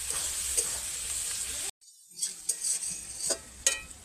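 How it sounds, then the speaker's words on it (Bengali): Spices frying gently over low heat in a pan for cabbage bhorta: a soft, steady sizzle with light spatula clicks. The sound cuts out briefly, then resumes with a few scraping stirs. "আর এখানে হালকা আঁচে এগুলো ভাজা হতে থাকে।"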